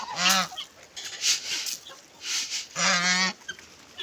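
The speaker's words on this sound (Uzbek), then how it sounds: "mana g'oz desangiz g'oz bor" Geese honk loudly in two long nasal bursts on a mixed poultry farm with guinea fowl and turkeys, with quieter honks and calls from the flock between them.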